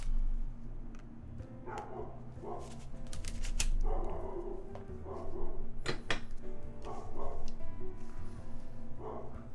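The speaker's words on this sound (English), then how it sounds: "Sorry about the dogs, my neighbor's dogs." A neighbor's dogs barking outdoors, several distant yips and barks scattered through a low steady background hum, faint and somewhat muffled.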